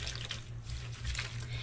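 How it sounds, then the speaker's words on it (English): A wig swished by hand through lukewarm soapy water in a sink, giving a steady close sloshing and gentle liquid churning with no talk. "You just take your wig and put it in like this. You just swish it around a little bit."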